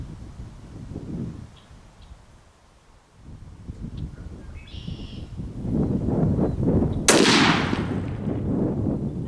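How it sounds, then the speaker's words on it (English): A 22-250 rifle fires a single sharp, loud shot at a groundhog during an evening outdoor hunt, preceded by quiet rustling and outdoor ambience, with a faint bird call. "I'm just gonna shoot him in the side of the face."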